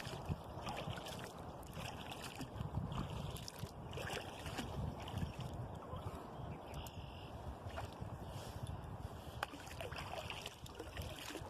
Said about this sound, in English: I'm going to go out and paddle around Reed Island for a few minutes here.